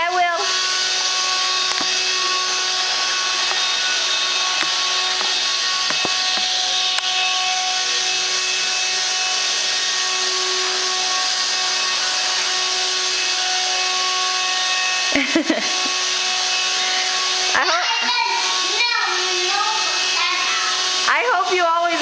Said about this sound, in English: I'm vacuuming in here too.